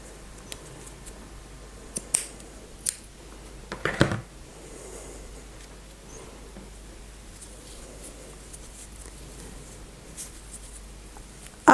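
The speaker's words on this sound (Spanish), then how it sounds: "Un nudo bien apretadito. Y cortamos los 2 extremos." Scissors clip the loose ends of crochet yarn, a handful of small, sharp snips close by, followed by quiet rustling handling.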